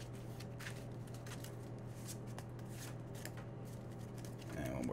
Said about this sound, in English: I'll just shuffle really quick.